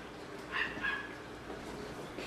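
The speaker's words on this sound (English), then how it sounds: "Neighbor's dog barking there." A neighbor's dog barks faintly in the distance, two brief yelps close together, heard over a quiet outdoor backyard ambience near a grill.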